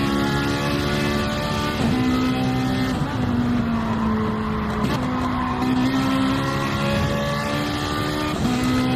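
GT4 Cup race cars corner hard in a racing video game, with a loud, steady engine drone whose pitch dips and climbs through the turns, overlaid by tire squeal and brief skids.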